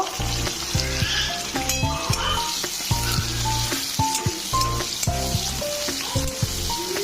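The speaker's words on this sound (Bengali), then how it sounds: "এবারেতে পেঁয়াজ কুচি দিয়ে দেবো আর ভালো করে ভেজে নেব" Chopped onions hit hot oil seasoned with sugar and whole cumin, bursting into loud close sizzling with bright crackles and intermittent scraping stirs of a spatula in the pan, no talking.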